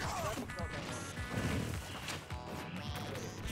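A forward smash attack lands in a Super Smash Bros. for Wii U tournament match with a sharp impact crack amid dense game effects and music. Commentators talk over the action.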